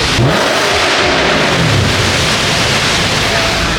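A BMW E92 engine roars loudly and steadily throughout, revving high with a broad, continuous exhaust rumble and no talking.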